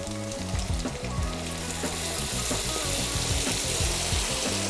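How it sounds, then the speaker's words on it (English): About 400 ml of hot water is added to black bean sauce sizzling in a pan over medium-high heat for jjajangmyeon noodles, bringing a loud steady sizzle with bubbling and crackling that continues throughout, without speech. "From our pot of boiling water, we're gonna grab about 400 milliliter of hot water. We're gonna add our hot water now."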